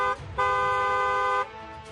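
A car horn blares in one loud, steady honk lasting about a second, with a softer toot just before it and no voices.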